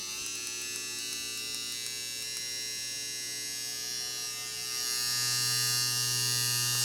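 A nano tattoo machine with a 4.2 mm stroke hums and buzzes steadily at 8.5 volts, rising in pitch and getting louder and harsher partway through, alone and close.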